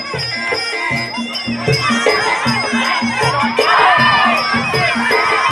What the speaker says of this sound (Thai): บ้านเราเชียร์โต๊ดหน่อย แพ้ชนะไม่รู้เชียร์ไว้ก่อน